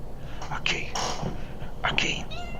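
A house cat meows twice, short high cries about a second apart, close to the microphone over a low steady background hum.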